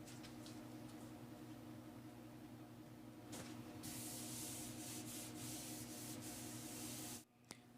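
Bondo body filler is spread across a cafe-style motorcycle fuel tank, a soft continuous rubbing and scraping that grows a little louder midway, then cuts off abruptly near the end, faint and close with no talk.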